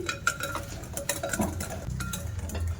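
A spoon stirs a semolina and milk batter for pitha in a bowl, soft repeated scraping and light clinks against the bowl, close but fairly quiet.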